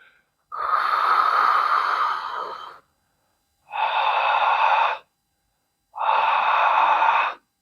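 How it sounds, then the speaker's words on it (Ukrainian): Ujjayi breathing: three slow, rasping exhales pushed through a constricted throat, the first long and drawn out, the next two shorter, each separated by silence and heard close up. "А тепер спробуй зробити видих, умовно кажучи, через літеру Х."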